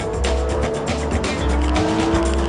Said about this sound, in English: Let's start with some on-track fun with the R8 V10 Plus.